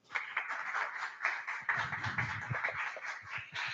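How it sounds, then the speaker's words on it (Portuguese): Applause from an audience at an evening career-development meetup: dense, steady clapping from many hands that fills the whole stretch, with some low murmuring underneath in the second half. "gostaria de convidar todo mundo a uma salva de palmas"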